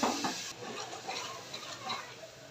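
A spice paste for a country-chicken curry with potatoes is stirred in a pan with hot water added, giving a soft sizzle and faint scraping of the spoon against the pan, with no talk.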